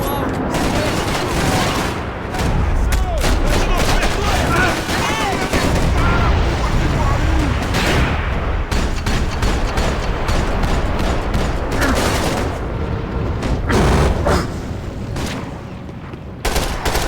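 Dense video game gunfire in Max Payne 3, with rapid overlapping shots and bursts firing nearly nonstop, loud and close, amid background action sounds.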